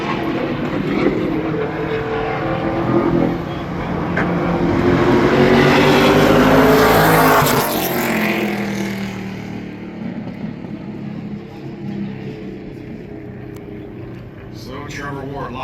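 An ARCA Menards Series race car on a qualifying lap at Berlin Raceway roars loudly as it sweeps past, then its engine fades into the distance while an announcer commentates over it.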